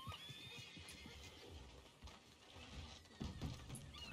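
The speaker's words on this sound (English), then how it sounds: "Oh, goddamn, horse losing its mind." An agitated horse in Red Dead Redemption 2 neighs and whinnies shrilly while hooves clop and stamp nearby, fairly quiet with no talk.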